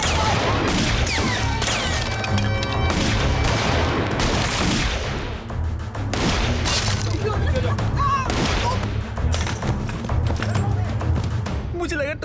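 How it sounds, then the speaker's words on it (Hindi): Rapid, dense gunfire from the Hindi film Tell Me O Kkhuda (2011) crackles continuously, many overlapping shots and bursts, loud and close, with no clear pauses. "यहां तो उन पर ही गोलियां चल रही है"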